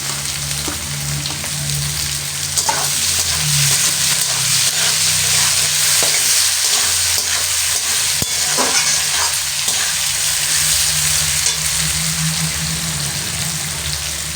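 Mutton frying with onions in a pan while being stirred, a loud continuous sizzle close up with scraping stir noises over about fourteen seconds and no talk.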